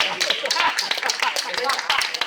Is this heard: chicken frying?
no